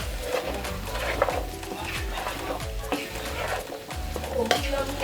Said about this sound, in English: And green pepper. And then we stir that.